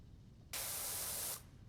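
A pressure washer's water jet sprays in Powerwash Simulator 2, one abrupt, steady burst of hissing spray under a second long that starts and stops sharply against a quiet low hum.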